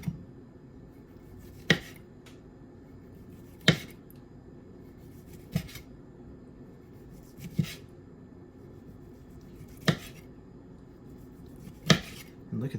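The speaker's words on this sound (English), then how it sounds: "We are going to slice it nice and thin." A knife slicing smoked turkey breast into thin slices on a board, sharp isolated clicks roughly every two seconds over a quiet room, close and distinct, with no talking.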